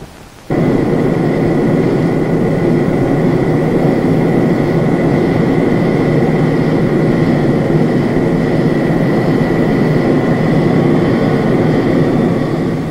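A Convair F-102A interceptor's J57 jet engine roars steadily through a ground run with afterburner, starting abruptly and holding a loud, continuous, dense rumble with a sustained whine above it for the whole stretch, with no speech.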